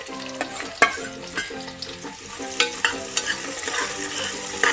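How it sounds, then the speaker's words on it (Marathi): Chopped onion sizzling in a hot pan while a spoon stirs it, repeated scraping clinks over a continuous frying hiss, close up with no voices. "यामध्ये आता आपण चिरलेला कांदा घालूया,"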